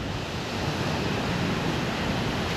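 Steady, roaring broadband noise of strong wind buffeting the microphone, mixed with surf, continuous and loud with no voices.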